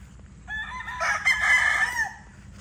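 A rooster on a storm-damaged farm gives one loud, close crow lasting about a second and a half, rising then trailing off over quiet background.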